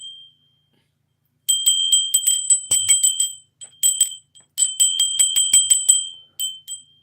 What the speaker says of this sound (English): I'll give you some bell.